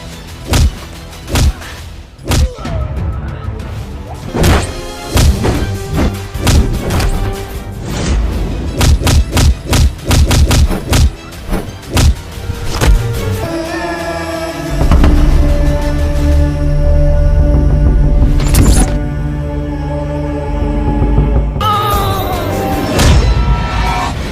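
Blows and thuds in a staged fight scene, a rapid run of loud, sharp impacts and crashes in irregular bursts, followed by heavier booming hits and a steadier rumble near the end.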